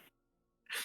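A single sharp sneeze bursts out near the end, loud and close, after a quiet stretch of faint room tone.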